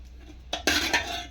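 A cup of bombay rava (semolina) goes into a steel mixer jar: a dry pour, then a bright metallic clatter and scrape against the jar, close and fairly quiet.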